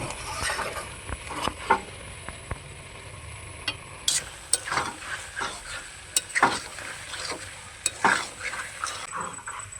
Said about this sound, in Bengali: এখন সয়াবিন আলুটাকে ভালোভাবে আমি আবারও কষিয়ে নেব।